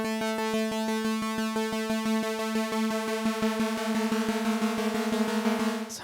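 Unbalanced waveform on an Audiothingies MicroMonsta synthesizer, a steady rapid pulsing drone that grows rougher and noisier toward the end as it breaks into chaos, loud and without voices.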